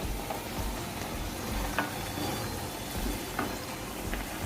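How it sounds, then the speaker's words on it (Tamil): Virudhunagar-style parotta frying in hot oil over a medium flame, giving a steady, dense sizzle and crackle that runs without a break, close and fairly loud, with no voices. "எண்ணெய் சூடாயிடுச்சு. இப்போ நம்ம பரோட்டாவை போடுறோம்."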